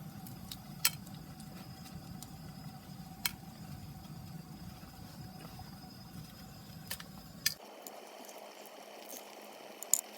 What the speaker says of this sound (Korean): 이제 끓이고 있어요